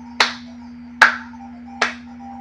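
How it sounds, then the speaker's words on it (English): Three sharp hand claps in Zelda: Link's Awakening spaced evenly about a second apart, close and crisp, with a steady low hum underneath. "Clap for joy."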